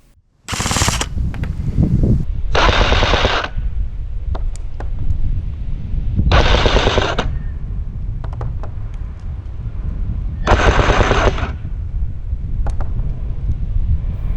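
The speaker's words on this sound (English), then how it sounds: "let's shoot this thing at a target 30 meters away" A CYMA M16A1 gel blaster fires at a target 30 m away outdoors, four short bursts of rapid mechanical shots, loud and close, over constant heavy wind rumble on the microphone.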